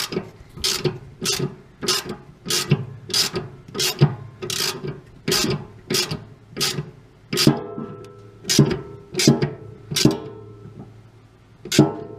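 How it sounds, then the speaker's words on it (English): A wrench ratchets a lock nut tight on a washing machine during a leak repair, giving about fifteen sharp, evenly spaced clicks, close and clear with no talk. "I will install the lock nut"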